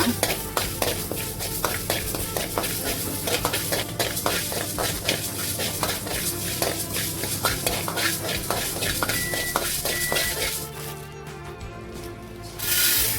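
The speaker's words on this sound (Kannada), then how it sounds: "ಇಪ್ಪತ್ತು ಮೆಂತೆ ಕಾಳು ತಗೊಂಡಿದ್ದೇನೆ ಅದನ್ನು ಕೂಡ ಫ್ರೈ ಮಾಡುವ" Fenugreek seeds frying in a pan while being stirred, with a steady sizzle and repeated scraping and clinking of a spoon against metal, continuous and close, with no talking.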